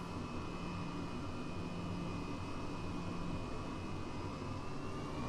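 Turbine engine of an H135 helicopter in Microsoft Flight Simulator spooling up, a steady loud broadband whine and roar with a slowly rising high tone, continuous and close throughout.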